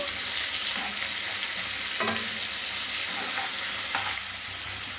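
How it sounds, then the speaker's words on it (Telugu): Cumin seeds fry in a pan for jeera rice, a continuous bright sizzle with occasional scraping stirs and a slight drop in level near the end. "కొంచెం ఫ్రై అనిద్దాం"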